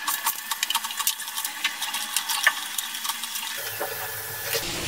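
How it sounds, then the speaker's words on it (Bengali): Diced potato cubes frying in oil make a close, steady crackle of small sizzling pops that continues throughout, with a low rumble joining near the end. "আলুগুলো ভেজে নিচ্ছি।"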